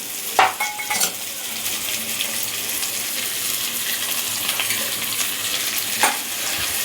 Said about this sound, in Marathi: भेंडी आपण फ्राय करून घेत आहोत आधी.